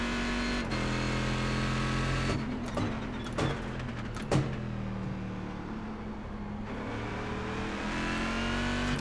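A GT1 race car's engine revs loudly and steadily in the iRacing sim at Watkins Glen, its drone continuous throughout, with a few sharp pops and bursts midway and no talking.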